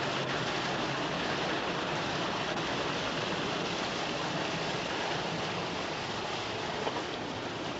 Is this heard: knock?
no